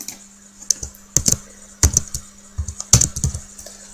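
Computer keys are typed close by in a quiet room, several separate crisp clicks and short clattering runs over a faint steady hum.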